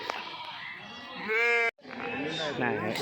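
Sheep and lambs bleat at a weekly livestock market in Kadiri, with a couple of wavering calls rising close by over market chatter and people talking, and a brief cut between them.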